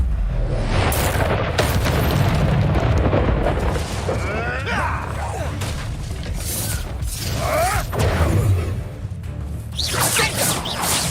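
Confringo fire spell blasting in the Hogwarts Legacy video game during combat, a loud booming explosion with whooshing bursts amid clattering battle effects, over a game voice.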